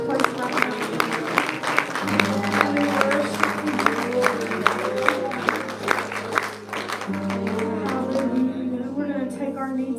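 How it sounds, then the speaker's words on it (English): A congregation claps steadily for several seconds while organ or keyboard chords sustain underneath, with voices mixed into the lively, reverberant room. "give Him a hand clap of praise in this place right now."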